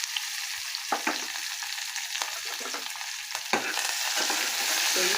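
Finely chopped onion, curry leaves and browned garlic sautéing in a pan, a steady sizzle broken by a few spoon scrapes, growing slightly louder toward the end, no voices.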